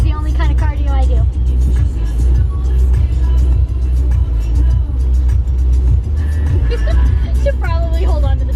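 A car drives in the rain past a cafe, heard from inside the cabin as a steady low engine and road rumble, with someone talking over it throughout.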